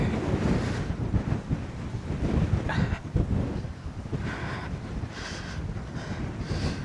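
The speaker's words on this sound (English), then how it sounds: "It's very, very, very, very blowy." Strong gusting wind at Lochindorb, a loch in the Highlands, buffeting the microphone with a loud continuous low roar that swells and eases, with no voices.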